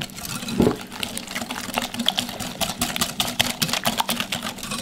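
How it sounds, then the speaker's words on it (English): Wire whisk beating a lemon juice batter in a bowl for lemon bars, a continuous fast scraping and swishing rhythm, close and fairly loud over a steady low background hum, with no talking. "So I'm using a wire whisk"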